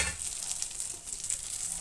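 Boiled cabbage added to dal in a hot pan, giving a steady close sizzle with bright frying crackle throughout the short moment, with no voices.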